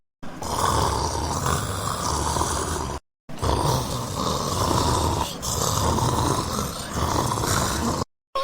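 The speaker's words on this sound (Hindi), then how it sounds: "अरे अंकल तो बहुत ज्यादा खर्राटे मारते हैं" A man snores heavily while sleeping: long, loud, rasping breaths repeat in a slow rhythm, close to the listener, with short silent gaps between them.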